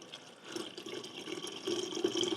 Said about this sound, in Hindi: और ऊपर से गर्म पानी उबलता हुआ डालते हैं